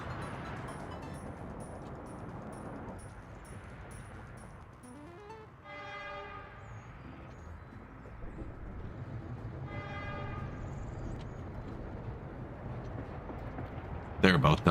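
A train in the game Workers and Resources rumbles steadily with two tonal horn blasts sounding a few seconds apart.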